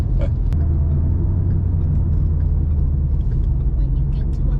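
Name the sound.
Borla Pro XS mufflers on 2011 Mustang GT exhaust rumble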